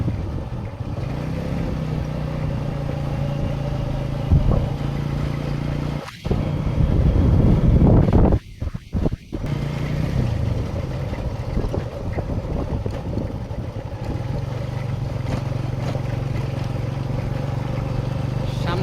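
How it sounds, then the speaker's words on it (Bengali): A motorbike rides along a road through a tea garden in the afternoon, its engine a steady low drone mixed with rushing wind noise on the microphone, with a few brief buffeting gusts and dropouts midway. "বিকেলের এই সময়টা চা বাগানের রাস্তা ধরে মোটর বাইকটা চালাচ্ছি"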